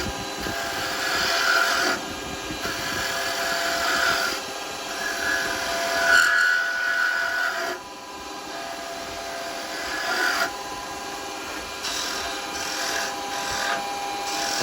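Small skew chisel cutting wood spun on a lathe while turning baby rattles, a steady scraping, rasping hiss with brief pauses and shifts in pressure, close and fairly loud throughout.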